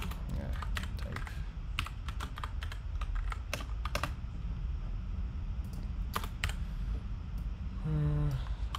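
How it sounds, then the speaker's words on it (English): Rapid, uneven keystrokes clatter on a computer keyboard during a coding session, close and moderately loud, with a short pause before a final burst of clicks. "having trouble typing"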